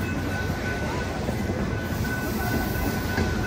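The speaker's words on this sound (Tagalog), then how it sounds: "Haba ng train pero yan patapit na matapos." A long train rolls past a railway crossing at White Rock, British Columbia, with the crossing gate down; a steady, close rumble of railcars continues for the whole stretch, with a faint whine on top.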